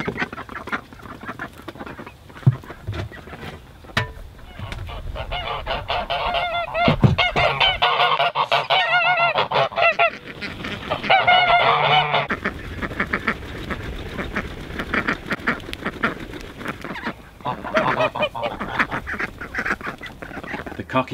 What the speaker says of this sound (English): There are the geese and the ducks to see to every day.